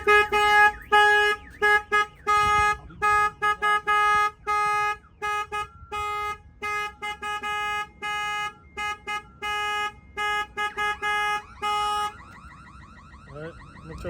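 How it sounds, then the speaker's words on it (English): A 2023 RAM Promaster's aftermarket car alarm blares in a fast, choppy series of loud electronic tones that keep changing pattern, with no talking over it, before it cuts off and switches to a different warbling tone near the end. "I'm going to turn off the alarm by hitting unlock"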